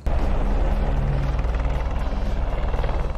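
A helicopter on the Border map in the video game Rainbow Six Siege, a steady loud rotor drone with a fast rhythmic chop throughout, close and continuous with no talk over it.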